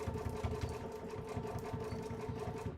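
A domestic sewing machine running in reverse to backstitch the end of a seam, a steady close whirring hum with a rapid regular needle pulse throughout, stopping abruptly at the end.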